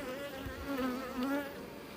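Honeybees buzzing close by at an open beehive, a dense droning hum with individual wingbeat tones rising and falling as bees pass near, steady throughout.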